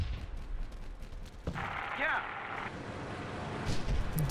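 A tank cannon fires once in a World War II strategy game set in the 1941 Battle for Moscow, a single sharp, booming report partway through amid low rumbling battle noise, with someone talking over it.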